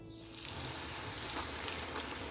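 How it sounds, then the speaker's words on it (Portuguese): Meat croquettes deep-fry in hot oil, giving a steady, close crackling sizzle that builds quickly and holds without pause. "Frite os salgados imersos no óleo, mergulhados no óleo."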